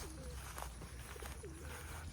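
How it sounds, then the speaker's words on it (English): A couple of pigeons coo softly on a farm pasture with goats and a sheep nearby, their low, rounded calls coming in short separate phrases over steady outdoor background noise. "And a couple of pigeons."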